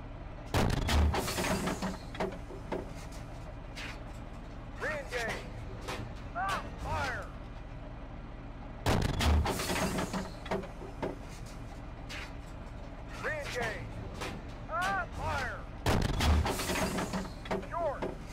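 Tank main-gun fire and explosions in the tank simulator game Steel Beasts: three heavy, booming blasts spaced several seconds apart, each with a rumbling tail, while someone talks steadily in between.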